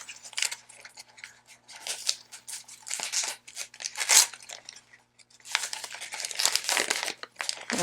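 Backing liner is peeled off sticky adhesive vinyl in crinkly, crackling pulls, close up, with uneven bursts and brief pauses between strips.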